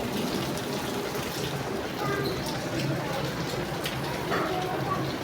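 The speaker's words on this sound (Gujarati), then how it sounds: "કેટલો બધો વરસાદ છે" Heavy rain falls steadily outdoors in Bareja, a continuous patter and splashing of water heard under a person talking.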